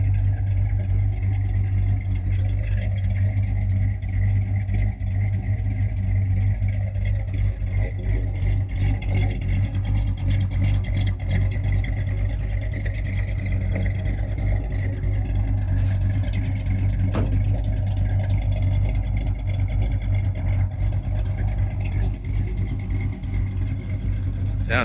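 A 1988 Chevy Monte Carlo SS with a 400 four-bolt-main V8 and a lumpy cam idles steadily up close, a loud, even low rumble with light mechanical clatter running throughout.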